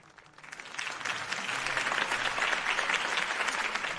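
A crowd in a Batman video game bursts into applause, building quickly from a few claps into steady, sustained clapping and cheering that holds loud to the end.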